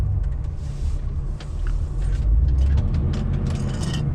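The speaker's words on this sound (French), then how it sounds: "Donc là vous pouvez accélérer à fond, vous êtes en 2." A car in manual mode pulling hard in second gear, a loud, steady engine rumble that swells as it accelerates, with faint mechanical rattles over the top.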